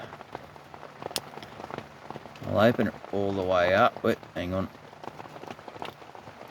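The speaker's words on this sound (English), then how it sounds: "Oh, it's raining and I'm inside my rooftop tent. That's what all that clanky is in the background." Steady pattering of rain on a rooftop tent, heard from inside as a constant background hiss with scattered drips and taps, while someone talks over it.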